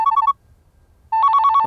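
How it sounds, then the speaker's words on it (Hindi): A telephone rings in two bursts of rapid electronic trills. A short ring comes first, then about a second of near silence, then a longer, louder ring, all close by with no voices. "अरे गिरी, फोन उठा ले यार, बज रहा है।"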